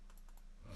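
Typing on a computer keyboard while entering forex trades into a trading system: a short run of faint, light key clicks in a quiet room, with a low hum swelling at the end.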